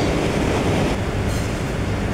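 Train rolling over the railway viaduct at Manggarai, Jakarta, near the Manggarai floodgate, a steady loud rumble of wheels and cars passing close by for the whole stretch, with no voices.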